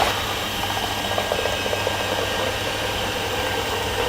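A blender churns buttermilk with ginger and added water, a loud steady whirring and sloshing drone that holds constant throughout with no voices.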